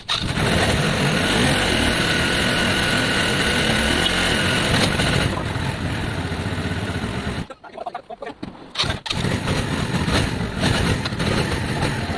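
A Lexmoto Valiant motorcycle engine runs steadily up close with a dense, continuous rumble, briefly dipping and stuttering for about a second before it picks back up and carries on.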